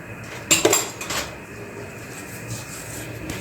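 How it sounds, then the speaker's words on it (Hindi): A spoon mixing white sauce with flour in a metal pot, opening with a couple of sharp clinks and scrapes of metal on metal, then settling into faint, steady stirring noise, close by, with no talking. "इस किस्म का आप चमचा लेके इसको मिक्स कर दें।"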